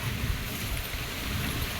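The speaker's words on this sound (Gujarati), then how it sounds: "પવન બહુ ફૂંકાય છે" Strong wind of a night windstorm before rain roars steadily across the microphone, a constant low rumble and buffeting with no speech.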